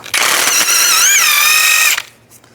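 A power tool spins off the axle nut on a Nissan Xterra with a 32mm socket, giving one loud, continuous whine with a rising squeal that lasts about two seconds before stopping abruptly.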